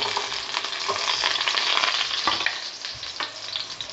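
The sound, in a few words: garlic and onion frying in oil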